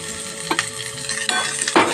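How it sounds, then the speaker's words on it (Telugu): Ginger, green chilli and curry leaves frying in a small amount of oil or ghee for a tempering, a steady close sizzle with a few louder bursts of spatter and stirring. "ఇదంతా కొంచెం పోపు వేగనిచ్చేసేయాలి"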